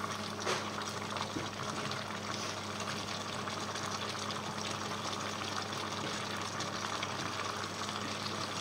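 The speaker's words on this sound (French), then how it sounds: "Et on laisse mijoter à peu près 5 minutes." Mussels simmering in their own juice, unsalted, with Roquefort, give a soft, steady bubbling hiss at low volume, an even, continuous simmer without pauses.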